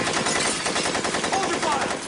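Rapid automatic gunfire from a film scene: a continuous, loud, dense rattle of shots with little gap between them, heard alone with no talk.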